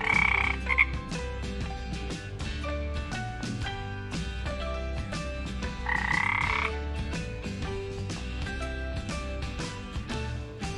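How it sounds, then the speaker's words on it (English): A frog croaks steadily, with repeated croaks and two louder, longer calls standing out over constant background music. "frog sounds like"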